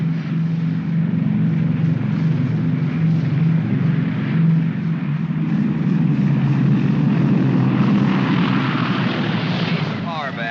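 A propeller aircraft engine drones steadily on landing approach with full flap set, a loud continuous hum with a low, even tone that persists throughout, with voices mixed in at times.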